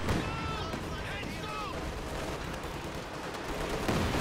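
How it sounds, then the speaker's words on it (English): Katyusha rocket artillery firing in a World War II strategy game, a dense, continuous roar of launches and explosions that stays loud and steady throughout, with a commentator talking over the battle. "The other Katyusha is firing on the pack now"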